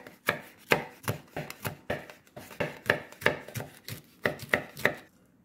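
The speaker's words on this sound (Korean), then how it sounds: "홍고추는 어슷썰기를 해줄 거예요" A knife slices a red chili pepper diagonally on a cutting board, producing about eighteen crisp, close chopping taps in a quick, slightly uneven rhythm before stopping.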